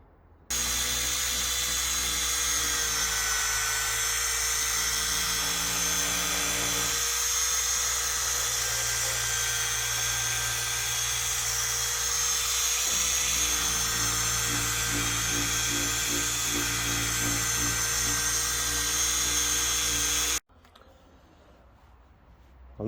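A 1-inch polisher whirs steadily as it works out rub marks on the paint of a BMW M4, a high, even motor whine running continuously close by before stopping abruptly near the end.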